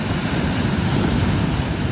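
Storm waves break against a seafront at night as a strong south-westerly wind blows, making a steady, loud roar of surf and gusting air with no voices.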